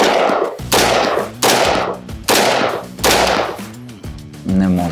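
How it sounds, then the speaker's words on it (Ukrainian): Four loud, sharp rifle shots ring out at steady intervals, striking a steel armor plate, each followed by a ringing metallic decay, with a brief voice near the end. "Давайте зробимо ще 5 пострілів."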